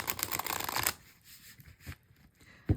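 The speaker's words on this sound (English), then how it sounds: "I focus on that as I shuffle the deck 7 times" An oracle card deck being shuffled by hand, a dense riffling burst of card flutter at first, then softer scattered taps and one sharp knock near the end, close and alone without talk.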